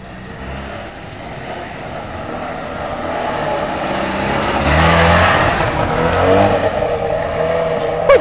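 Trabant car taking a corner, its small engine droning steadily and rising in volume toward the end as it works through the bend, heard close with no one speaking.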